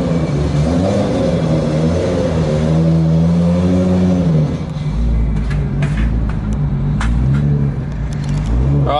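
A Nissan Skyline R34 GTR, street legal and tuned to about 1000 horsepower, revs loudly up and down close by, then pulls away with a deep rumbling engine note.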